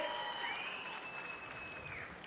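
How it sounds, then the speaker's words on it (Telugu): A political rally crowd claps in a steady, even patter that sounds distant and faint, with a thin tonal whine from the sound system drifting over the applause. "ఉన్నారంటే గట్టిగా చప్పట్లు కొట్టి హర్షాన్ని ఆమోదం తెలియజేయండి"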